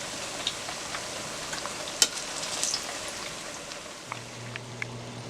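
Plantains fry in a pan with a steady soft sizzle and faint scattered pops and crackles, heard fairly quietly with no speech.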